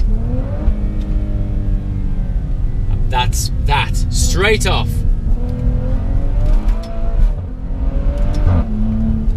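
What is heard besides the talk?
Maserati SUV engine revving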